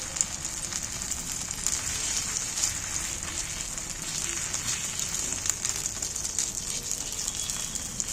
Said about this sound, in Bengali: এবার আমি এখানে এক চামচ করে তেল দিচ্ছি অল্প তেলেই ভাজা হয়ে যাবে এটা